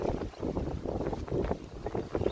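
Gusty wind beside the McIntyre River buffets the microphone in uneven rushes, a low rumbling roar close up with no talking.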